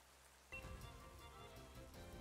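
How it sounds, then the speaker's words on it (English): Light rain ambience in the video game Pokémon Sword and Shield during an online battle: a faint, steady patter of drizzle that continues throughout, with no one talking. "this little rain sound is kind of making me cold"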